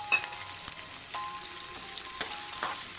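Chopped onions fry in a pan for a restaurant-style okra masala curry, giving a close, steady sizzle with scattered crackling pops and no talking.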